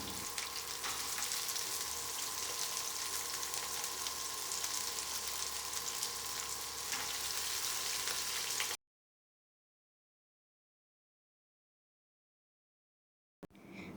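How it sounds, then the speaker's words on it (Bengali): Gourd seeds sizzle and crackle steadily as they fry in a pan, with a dense, even hiss that runs for several seconds, then cuts to silence before faintly resuming at the end. "এখন আমরা এগুলোকে বাদামি করে ভেজে নেব।"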